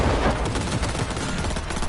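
Gunfire in Cyberpunk 2077 rattles in a dense, loud volley, continuous automatic shots layered together with no pauses.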